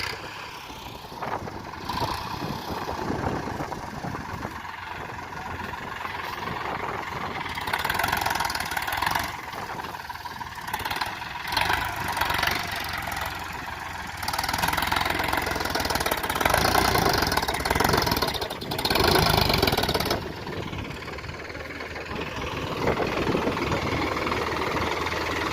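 A tractor engine idles and rumbles steadily for a long stretch while groundnuts are unloaded into its trolley on a farm. The loudness swells and dips with occasional rattles, and no one speaks.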